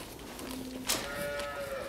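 A dairy cow on a Korean dairy farm with around a hundred cows lets out a single drawn-out moo, fairly near, over a steady barn background with no talk.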